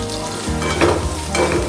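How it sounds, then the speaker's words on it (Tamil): Onions sauté in a hot pan for a country chicken gravy, giving a loud, steady sizzle with scraping stir strokes throughout. "வெங்காயத்தை சேர்த்து நம்ம நல்லா வதக்கிக்கிடுவோம்"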